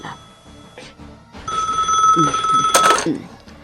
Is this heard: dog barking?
no